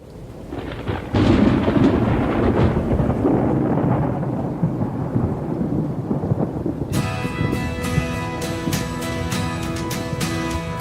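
A thunderstorm opens with a deep, rolling thunder rumble over rain hiss that slowly fades, then musical tones begin partway through and continue over the steady rain.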